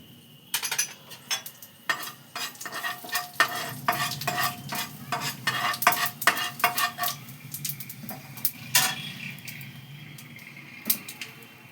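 Torn bay leaf and panch phoron spices fry in a hot pan for a vegetarian cabbage curry, giving a close, steady sizzle broken by quick scraping clicks of a spoon stirring against the metal.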